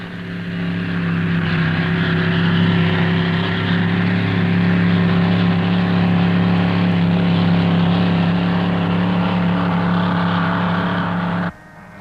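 A 1,000-horsepower racing powerboat roars across the water at 1967 Salton 500 race speeds near 80 mph, a loud, steady engine drone holding for about eleven seconds before cutting off abruptly.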